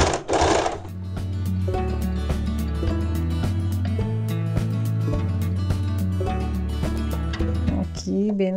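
A sewing machine stitches the strap onto an apron made from old denim jeans. It runs as a loud, steady rapid mechanical chatter that lasts nearly the whole time, after a brief rustle of fabric at the start.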